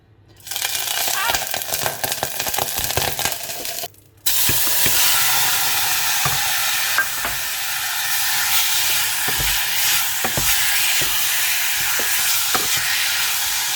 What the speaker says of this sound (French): Donc, je fais un petit peu revenir la viande.